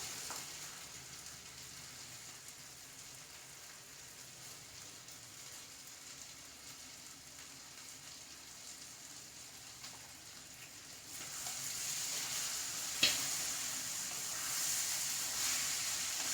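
Curry leaves sizzle in hot coconut oil alongside chicken for a Kerala-style chicken perattu, a soft steady frying hiss that swells louder partway through, with one brief clatter.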